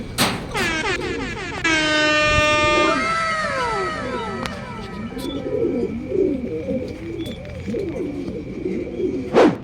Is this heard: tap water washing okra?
no